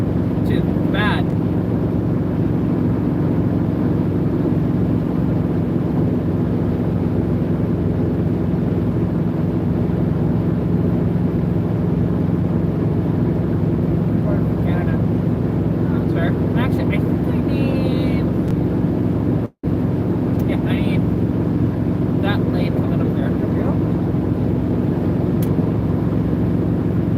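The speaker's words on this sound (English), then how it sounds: "you can physically hear the tone of the engine change." A steady, low engine drone runs continuously with a brief cutout partway, while voices talk faintly over the rumble.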